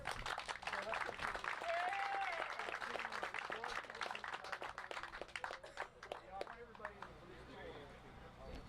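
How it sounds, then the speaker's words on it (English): Sustained applause from a crowd, dense clapping throughout with voices and cheers mixed in, tapering slightly toward the end. "Round of applause"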